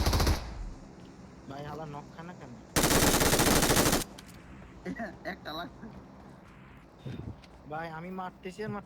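Automatic gunfire in the mobile game PUBG Mobile, a loud sustained burst of rapid shots lasting about a second, amid quieter game sounds and someone speaking before and after.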